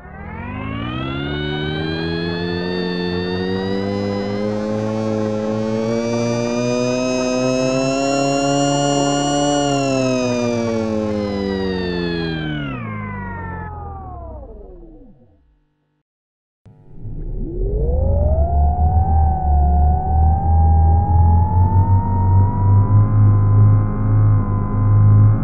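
A Tonewheel 2.0 organ-like instrument holds a long sliding, siren-like tone that rises, sustains and falls away, then after a short silence returns as a richer buzzing tone with added computerized harmonics, loud and steady with no voices.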